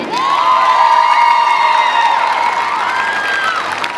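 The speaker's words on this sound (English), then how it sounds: "Let's have a big round of applause once again for all our queen candidates." A large crowd at a high school varsity football game cheers loudly for homecoming queen candidates, with sustained whoops and shouts over a wash of clapping that continues without a break.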